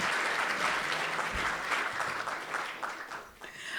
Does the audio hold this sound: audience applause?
yes